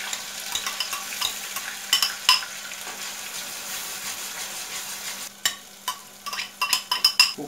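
Dry onions frying in hot oil for a Turkish egg-and-tomato-paste breakfast dish, a steady close sizzle with stirring scrapes and a few sharp utensil clinks toward the end, no talking.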